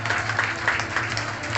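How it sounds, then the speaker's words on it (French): Outdoor audience at a birds-of-prey show applauding a young Andean condor, a steady wash of clapping from many hands over a low constant hum. "je crois quand même qu'il mérite un bel applaudissement"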